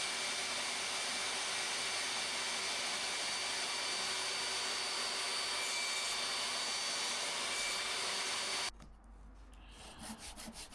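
A saw trims wooden splines in a woodworking shop, giving a steady, loud rasping whine for about nine seconds before cutting off abruptly, followed by quieter shuffling noises nearby.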